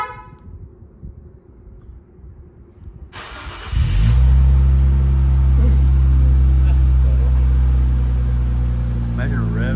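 Infiniti Q60 Red Sport fitted with an Ark Grip catback exhaust starts up and accelerates after a few quiet seconds, settling into a loud, deep, sustained exhaust drone close by.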